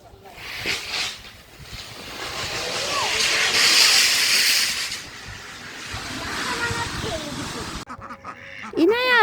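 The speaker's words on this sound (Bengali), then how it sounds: "দেখো দেখো দেখো কত হাঁস" Ducks quack in short nasal bursts through gusty wind roaring across an open outdoor spot, with people's voices mixed in nearby.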